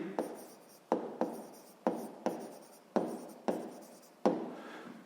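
Chalk or marker strokes on a board during a sixth-grade maths lesson, seven or eight distinct scratchy strokes at irregular intervals, close and clear with no talk.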